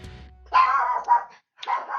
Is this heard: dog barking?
yes